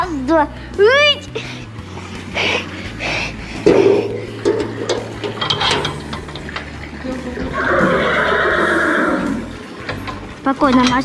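Horses being brought to drink water at a Cossack cadet corps stable neigh loudly, with a sharp whinny early on, among hoof clatter, splashing, and people talking.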